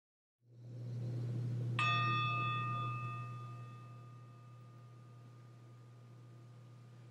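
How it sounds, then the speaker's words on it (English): A meditation bell struck once to begin a session, a clear ringing tone with long shimmering overtones that slowly fade over a steady low hum. "So you'll hear two bells."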